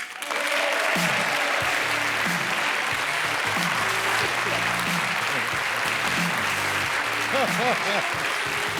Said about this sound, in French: Applaudissements pour mon ami Bernard Mabie